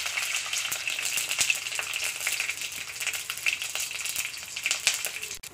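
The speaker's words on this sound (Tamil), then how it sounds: "இந்த வடகத்தை கொஞ்சம் பிச்சு போட்டுக்கலாம்" Pieces of vadagam, a sun-dried Tamil seasoning, break apart in hot oil with mustard and fenugreek seeds, giving a steady close sizzle with small crackles and pops, no voice.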